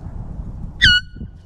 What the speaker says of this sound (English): I got this air horn right here